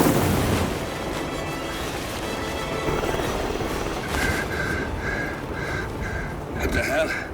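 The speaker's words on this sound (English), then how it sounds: "Alexa Carlisle's helicopter just took off" A helicopter lifting off in a Hitman 3 cinematic, a loud low rumbling roar with rotor chop and rushing wind building and swelling, joined later by repeating electronic beeps, with voices talking over it.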